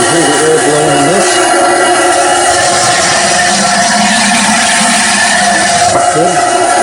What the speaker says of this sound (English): You can hear the air blowing in this.